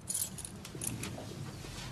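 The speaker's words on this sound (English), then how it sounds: "These are my factory keys." Factory keys jangling on a ring, close and fairly loud, with bright metallic chinks clustered early and again near the middle over a low background rumble.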